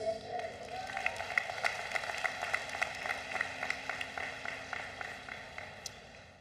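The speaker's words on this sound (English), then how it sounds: "let's hear another round of applause for the School of Public Health" Applause from a commencement ceremony crowd at the University of Maryland, with steady clapping spread across a large audience. It holds at moderate level and slowly fades, with no talking.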